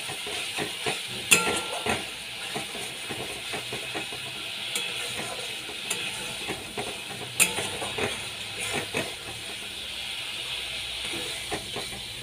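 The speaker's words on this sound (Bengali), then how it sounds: "ভালো করে মশলাটাকে আমি কষিয়ে নিচ্ছি।" Spice paste (masala) with salt and turmeric sizzles and hisses steadily as it is stir-fried in a pan, with intermittent scraping and clinking of the spoon against the pan.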